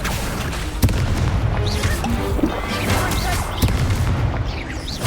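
Incendio fire spell blasts in Hogwarts Legacy, loud booming bursts and crackling impacts layered over busy combat effects, recurring every second or so without letup.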